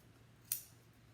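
One quick, faint snip of scissors cutting a piece in half for a bunny craft, a single brief crisp cut in an otherwise quiet room.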